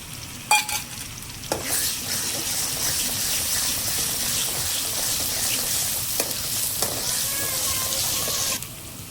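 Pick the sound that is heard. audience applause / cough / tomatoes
tomatoes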